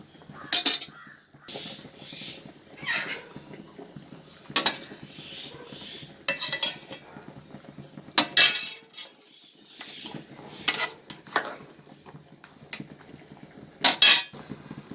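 Clinks and scrapes of a utensil against a pan come in scattered bursts as a Kerala-style trevally fish head is turned over while it cooks in curry, with a steady low hum between the knocks.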